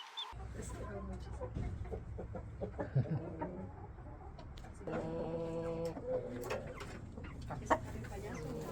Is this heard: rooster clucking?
yes